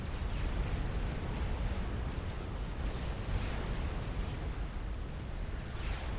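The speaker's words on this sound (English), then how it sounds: "Defeated by Novax and artillery shells" Artillery shells from the strategy video game Supreme Commander: Forged Alliance pound a base in a continuous rumbling barrage of overlapping booms and blasts, dense and moderately loud with no pauses.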